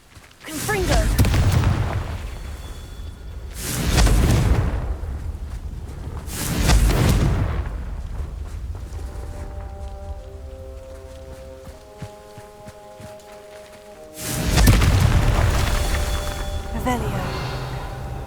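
Blasting-spell explosions from the video game Hogwarts Legacy go off four times as deep, heavy booms that decay slowly, with quieter game sounds and footsteps between them.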